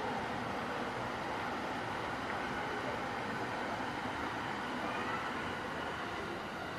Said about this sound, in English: There's a train in front of us, a real train.